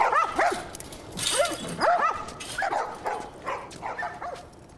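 Dogs bark in The Last of Us Remastered, a series of close, loud barks and yips arriving in uneven bursts a second or so apart.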